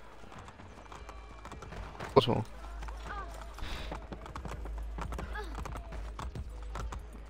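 Hooves clip-clop steadily from a horse in Assassin's Creed Brotherhood, a neigh rising briefly near the start, while someone talks over the game sounds.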